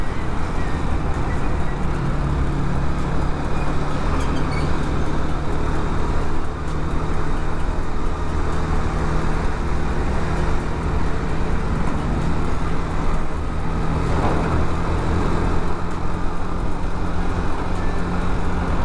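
Steady road traffic on a concrete national road between Sukabumi and Cianjur in West Java, with a truck just ahead: a continuous loud rumble of engines and tires, and people talking over it.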